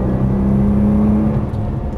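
Nissan GT-R engine pulling under throttle on a track, a loud close hum with a sustained tone that shifts slightly as it accelerates, no voices.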